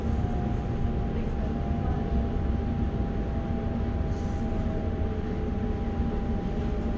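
A TfL Rail Class 345 electric train runs between West Drayton and Burnham, heard from inside as a steady low rumble and rolling drone with a faint whine, continuous throughout and with no voices.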